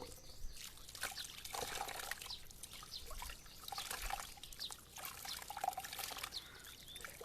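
Water trickles and pours in uneven bursts as something is washed, faint and close, with short pauses between the splashing pours.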